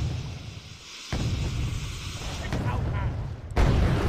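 Missile strikes in the war game Wargame Red Dragon, a dull boom followed by sustained rumbling blasts and a second heavy impact near the end, with a voice talking over the barrage.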